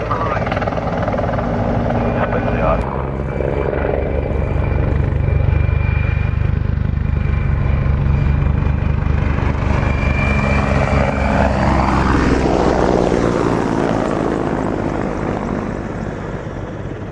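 A Czech Air Force Mi-24 Hind attack helicopter of the 221st Helicopter Squadron flies an air show display, its loud rotor thump and turbine roar building, peaking overhead and then fading slightly as it moves away.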